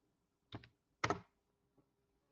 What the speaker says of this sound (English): I am going to type job zone